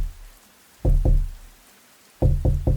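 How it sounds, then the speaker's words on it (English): Soft, deliberate knocks on a front door, heard close and clear as a pair of thuds followed by a quick group of three after a pause, with quiet room hush between. "I heard it. 3 soft knocks on the front door."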